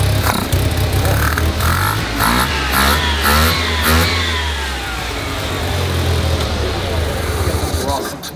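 A single-rotor rotary engine fitted with dual ITB throttle bodies runs loud and raw, a continuous buzzing rasp with repeated blips of revving over a steady idle, close up throughout, with voices mixed in beneath.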